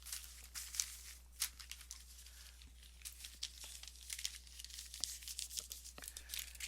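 Strips of recycled newspaper or flyer paper being handled for weaving placemats, with close, crisp crinkling and rustling in irregular bursts and no talking.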